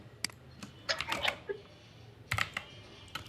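Short bursts of clicking keystrokes on a computer keyboard, a few quick taps, a cluster, then a pause and another small cluster, close and fairly quiet.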